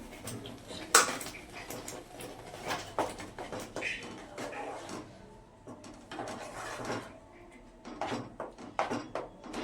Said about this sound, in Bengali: এবার এটাকে আমি ভালো করে নেড়ে নেড়ে নেড়ে নেড়ে শুকিয়ে নেব।